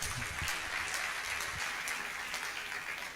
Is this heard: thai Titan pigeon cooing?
no